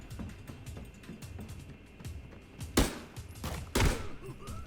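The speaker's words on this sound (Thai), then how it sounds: "ปืนลั่นปืนลั่น" Gunfire in the Arena Breakout video game: two sharp, loud shots about a second apart ring out over a steady, low in-game background rumble.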